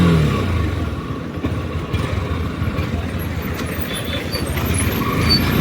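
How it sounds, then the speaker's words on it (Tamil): A Honda CB200X with a 184cc air-cooled engine runs with a steady, low exhaust rumble and a dense even pulse that stays close and loud throughout, with no voices. "பைக்கை ஸ்டார்ட் பண்ணதும் இன்ஜினோட எக்ஸாஸ்ட் நோட் கேட்டிருப்பீங்க."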